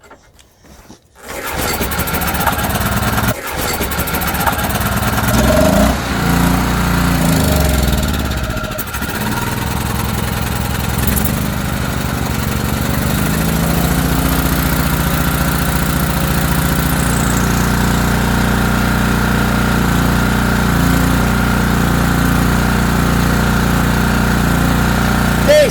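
An ETQ portable generator engine, sprayed with carb cleaner, sputters briefly and then settles into a loud, steady running drone that holds close and continuous throughout.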